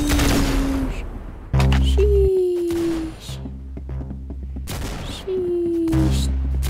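Gunfire in the online shooter Arsenal, with sharp loud shots in two separate bursts over steady game background noise, no talking.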